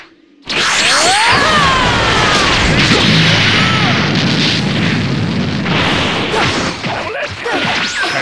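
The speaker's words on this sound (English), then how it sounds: "Special beam cannon!" A Special Beam Cannon energy blast fires with a sudden loud boom, then a sustained roaring, crackling whoosh of energy that stays intense for several seconds with swirling, sweeping tones.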